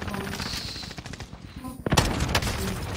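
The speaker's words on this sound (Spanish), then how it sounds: "Sí, ya me están disparando." Call of Duty: Warzone gunfire, rapid automatic bursts rattling loudly, a brief lull, then a sharp heavy volley followed by more shots, with a voice speaking now and then.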